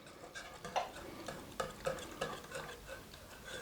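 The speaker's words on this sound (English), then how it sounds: "Now you just want to whisk it all together." Picante sauce ingredients, including salt and dried minced onions, are whisked together in a bowl, giving quiet, rhythmic tapping and swishing strokes that repeat about every half second, close and faint.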